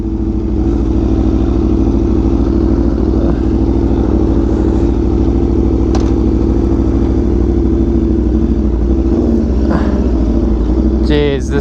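An engine hums steadily and loudly throughout, idling close by with a few faint clicks and a brief squeak near the end. It is a nearly new motorcycle with a fault, after its charcoal canister was removed.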